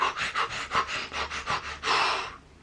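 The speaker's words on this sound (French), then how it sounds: "on peut pratiquer une expiration qui est explosive, c'est-à-dire qu'une expiration qui est très rapide" Rapid, explosive exhalations in a Systema breathing exercise: a quick run of about nine sharp, evenly spaced breaths close up, then one longer forceful blow of air before silence.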